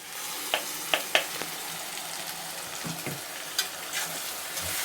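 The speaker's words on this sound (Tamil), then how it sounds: "இப்போ நம்ம அரைச்சி வச்சுருக்க தக்காளியை சேர்த்துருவோம்" Ground tomatoes going into onions and garlic frying in oil for a fish curry, giving a soft steady sizzle with several sharp spoon-on-pan taps and stirring scrapes, no talking.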